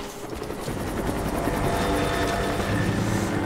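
A video game helicopter in Rise of the Tomb Raider: its rotor beats steadily with a dense engine roar, loud and continuous throughout.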